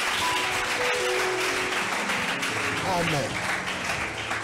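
A church congregation applauding at a French-language worship service, with steady, sustained clapping throughout and voices speaking and chanting over it.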